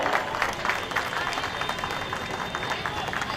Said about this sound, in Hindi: जोरदार तालियां भाई, मेरी बच्ची के लिए जोरदार तालियां।